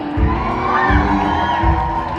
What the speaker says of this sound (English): Yeah, great crowd. It's the best crowd ever.